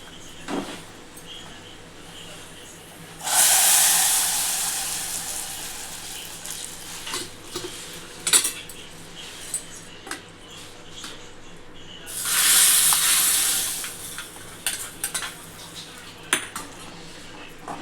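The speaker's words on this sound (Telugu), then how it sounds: "ఇప్పుడు ఈ పోపు దీంట్లో పోసుకుందాం" Hot tempering of fried garlic poured into a pot of mango and greens dal, two loud bursts of sizzling hiss a few seconds apart, with metal spoon clinks and scraping between them.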